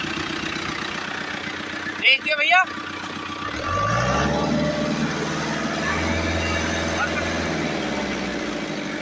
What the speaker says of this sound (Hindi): शानदार आवाज है ट्रैक्टर की